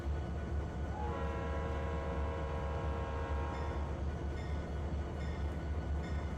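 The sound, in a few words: train horn in Trainz Simulator 3 video game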